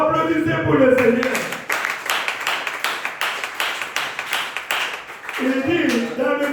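A church congregation claps rhythmically during a Tuesday worship service, steady close hand claps in a regular beat, with a voice speaking before and after the clapping.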